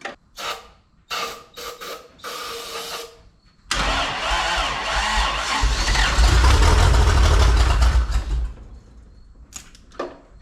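A junkyard Toyota Land Cruiser FJ40 engine cranks in a few short bursts, then catches and roars into a loud, rough idle that swells and then cuts off.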